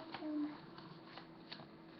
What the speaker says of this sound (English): Now, you're going to fold these corners into the middle.